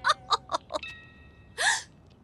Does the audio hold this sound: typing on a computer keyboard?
no